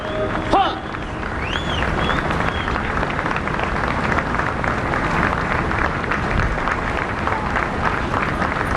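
Large crowd applauding steadily at the Ground Zero closing ceremony in New York, a dense, sustained roar of clapping with some crowd noise, after a brief early shout and whistle-like tones.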